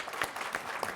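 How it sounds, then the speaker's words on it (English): Audience at a public debate on populism and liberal democracy gives a round of applause, a dense steady patter of clapping filling the whole second at moderate loudness, with no talk over it. "So everybody give her a round of applause."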